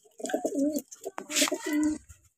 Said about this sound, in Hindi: ठीक है सारे कबूतर अपने